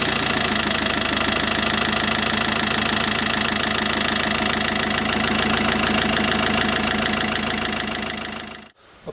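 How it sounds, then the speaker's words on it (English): An Iveco campervan engine idling steadily after its oil, fuel and air filters were changed, a loud close rhythmic diesel clatter running evenly, then cutting off abruptly near the end. "Engine's running sweet now."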